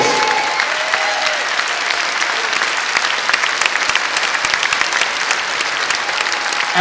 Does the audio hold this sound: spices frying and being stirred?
no